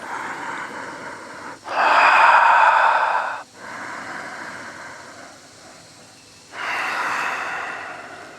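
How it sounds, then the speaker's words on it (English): Slow deep breaths during a yoga warm-down into Shavasana, three long airy exhalations with a quieter breath between, close and clear with no talking. "taking 5 deep breaths"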